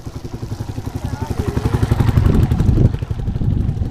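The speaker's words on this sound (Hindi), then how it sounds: "ये आप लोग देख सकते हैं जो टूरिस्ट हैं वो बाइक और स्कूटी पे भी जाते हुए।" A tourist's motorcycle rides along a snowy road in Dalhousie, Himachal Pradesh; its engine chugs in a steady, rapid pulse and grows louder as it draws close.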